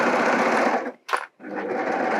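A Baby Lock Acclaim sewing machine stitches fabric at stitch length 3 with a steady, fast mechanical whir that briefly stops and restarts partway through, fairly close and loud.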